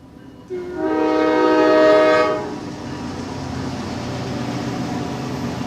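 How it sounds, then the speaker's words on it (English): A train passes outdoors near a podcast recording, sounding a loud sustained horn blast for under two seconds, then a steady rolling rumble carries on alone without any talking. "We got the train in the background"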